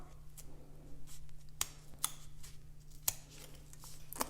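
Scissors snip a part off a sheet of paper, making a few quiet, sharp clicks spaced about a second apart over a faint steady hum, with no voices.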